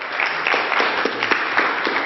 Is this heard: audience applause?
yes